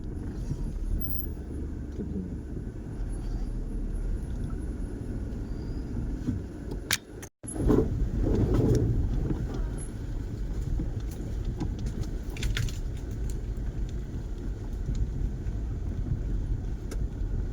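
A vehicle drives along a hill road near Pollachi, its engine a steady, close rumble mixed with wind buffeting the microphone, with a brief dropout partway through and no clear talking.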